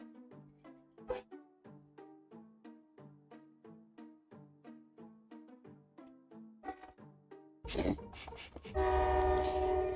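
A regular series of tonal horn blasts repeats steadily, then a loud rushing roar of a passing train takes over near the end.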